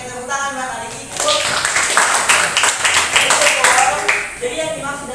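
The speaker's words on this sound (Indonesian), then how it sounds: "Oke, tepuk tangan buat adik ibu" Classroom applause from high school students, a burst of clapping rising after a second and holding steady for several seconds beneath voices and chatter before tapering.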